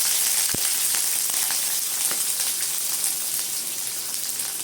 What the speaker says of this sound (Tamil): தக்காளி இதெல்லாம் போட்டு வதக்கிறாங்க